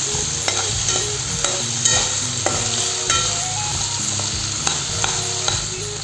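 Ingredients for a potato and prawn curry frying in a pan, with a steady loud sizzle and repeated scraping strokes of a spatula stirring throughout, no voices.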